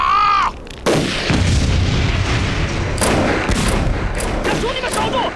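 Battle gunfire in a wartime film skirmish on open grassland, loud sharp reports and booming shots in quick succession over continuous noisy action, with a short shouted burst at the start.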